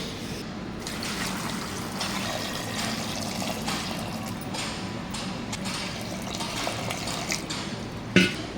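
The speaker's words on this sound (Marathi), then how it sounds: "आता ह्याच्यामध्ये पाणी घालून घेऊया।" Water poured into a large pressure cooker holding potatoes, a steady trickling and splashing that runs throughout at moderate level, with a brief clink of metal near the end.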